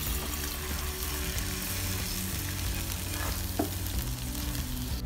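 Soy sauce and water stir-fried in a wok, a steady close sizzle and bubbling frying sound with faint stirring scrapes, loud and continuous throughout.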